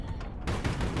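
Rapid booming bursts of 37mm and 100mm cannon fire in the naval combat game Highfleet, a dense, loud barrage that thickens midway through the short burst, with no voices.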